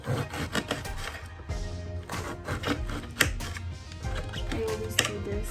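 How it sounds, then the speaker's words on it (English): A knife slices through raw boneless chicken thighs on a cutting board in a home kitchen, making close, repeated soft rasping and tapping strokes in an uneven rhythm, with no talking. "We're just gonna start cutting them"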